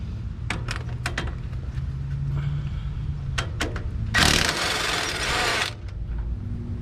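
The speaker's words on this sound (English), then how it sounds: "Now I'm gonna remove these bracket bolts. They're 21 millimeter. Just gonna use my impact." An impact wrench hammers out the 21 mm front brake caliper bracket bolts on a 2005 Ford Econoline van: one loud, harsh rattling burst of about a second and a half, preceded by scattered clanks of tools and parts.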